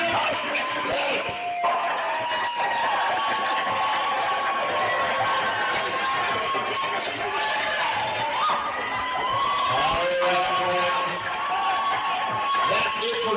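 A roller derby crowd cheers and whoops for the team Cosmic Front at a home-season bout, with loud, sustained applause, shouts and high-pitched yells filling the arena throughout.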